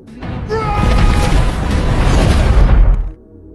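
A ship explodes in a film scene: a loud, sustained blast with rumbling crash and debris lasting about three seconds, ending abruptly into quiet.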